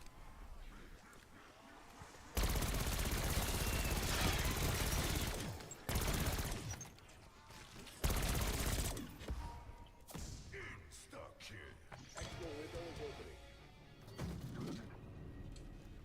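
Bursts of light machine gun fire in Black Ops 6, loud rapid volleys in several separate strings separated by quieter gaps with game sounds.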